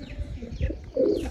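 Pigeons cooing at a house, low soft throaty coos close by, swelling in a short burst near the end.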